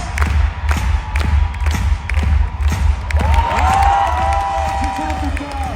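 Live audience at a face-off event cheering, clapping and whooping loudly with thumps throughout, while a voice talks over the crowd and tonal music-like sounds rise in the second half.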